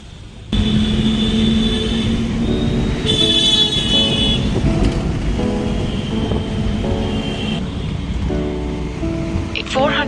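Busy road traffic in Mumbai roars steadily and close, with car horns honking in short bursts over the dense engine rumble.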